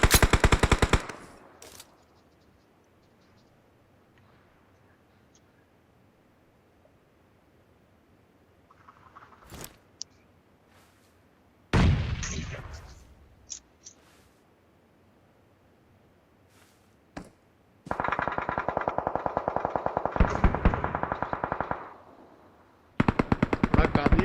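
Gunfire in the BGMI mobile battle royale game on the Livik map: several bursts of rapid automatic fire and single sharp shots, some long and loud, separated by quiet gaps.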